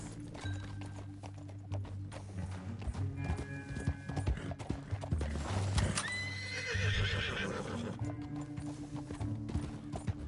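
Horses clip-clop along at a steady gait in the video game Red Dead Redemption 2, with a loud neigh partway through, over a low rumbling backdrop.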